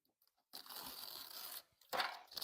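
Masking tape peeled off a painted card, giving a steady ripping, tearing sound for about a second, then a brief pause and a second shorter burst of peeling, close and fairly quiet.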